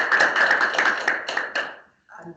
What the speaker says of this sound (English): let's just give CD a round of applause